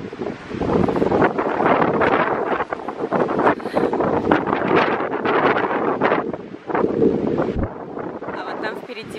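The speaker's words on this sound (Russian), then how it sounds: "Ну и ветер" Strong wind buffets the microphone in a steady roar with gusty surges on a riverbank by the Vuoksi, nearly continuous for several seconds.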